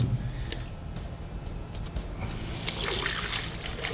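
Coolant pouring into the radiator of a 1956 Chevy convertible, a soft trickling and gurgling stream that swells into a louder splashy rush near the end, with faint background noise.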